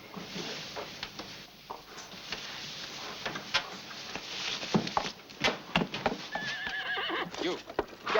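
A horse whinnies while its hooves clip-clop close by in a period stable setting, sharp hoof knocks scattered through the sound along with a neigh near the end.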